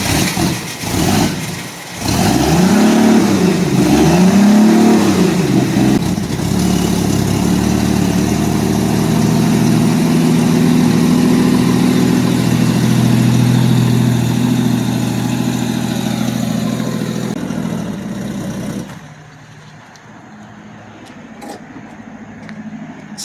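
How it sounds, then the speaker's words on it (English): A car engine with a newly installed carburetor idles roughly and revs up in a few loud surges, then settles into a steady close drone before cutting out abruptly, leaving a faint low rumble. "Stalling at idle"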